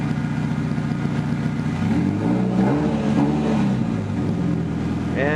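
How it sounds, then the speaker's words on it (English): Turbocharged VW Beetle engine idling loud and steady, then revved with rising and falling pitch sweeps across several seconds, close to the car. "So go rev it up again."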